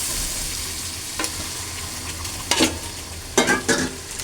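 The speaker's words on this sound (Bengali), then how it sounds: "মশলাটা আমার ভাজা হয়ে গেছে, আমি এখন মুরগির মাংসটা দিয়ে দেব।" Chicken pieces frying with ground chilli and spices in a pan for khichuri, a steady close sizzle broken by a few louder stirring scrapes and bursts, no talking.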